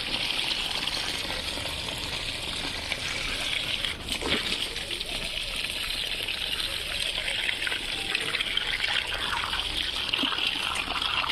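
Water pours steadily onto kitchen garden plants, including eggplant, a continuous gushing and splashing close by that runs throughout with little change.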